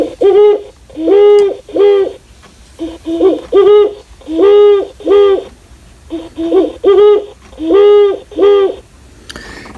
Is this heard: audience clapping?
no